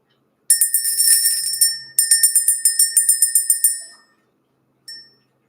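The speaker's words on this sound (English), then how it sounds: "So we're going to ring the bell." A small hand bell is rung in a spiritual cleansing ritual, a rapid bright ringing in two bursts of repeated strikes that decay after a few seconds, followed by one lone final ding, clear and close.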